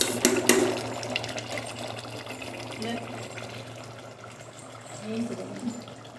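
Water gushes and pours into a pot of mutton paya nearby, a steady rushing flow with a low hum, while someone speaks over it.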